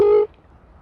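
A person buzzes their lips together to imitate the trilling call of an American toad, producing one short, steady, buzzy tone that stops abruptly, followed by near silence.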